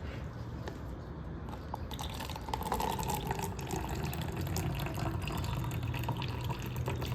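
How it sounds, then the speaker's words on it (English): Water pushed out through a handheld syringe water filter, carrying out filtered dirt, gives a steady close trickling and splashing flow that grows slightly louder partway through, with no talking. "And then out comes all of the water and the dirt that it just filtered."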